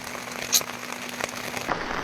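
Rain falling outside at a remote rural spot in Yunnan, a steady soft patter and hiss with scattered drops close by, continuous and fairly quiet with no talk.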